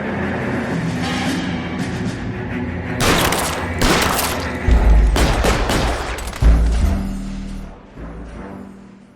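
Gunshots in the video game L.A. Noire: a loud, rapid cluster of shots and heavy booming impacts over several seconds, ringing out against background game sound before fading.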